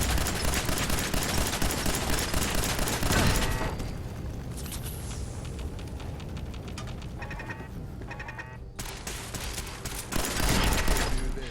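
Two turrets in the video game Fallout 4 fire dense rapid bursts, loud at the start, then quieter game ambience with scattered shots, then a final heavy burst.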